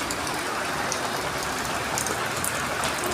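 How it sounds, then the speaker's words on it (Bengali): Heavy rain pours down outdoors in a steady, dense roar of hiss and patter that stays loud and unbroken throughout, with no voices. "দেখেন সামনে কত বৃষ্টি উঠছে"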